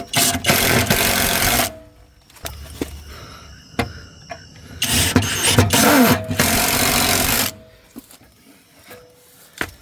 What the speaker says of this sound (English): Put my 2 bottom screws in here.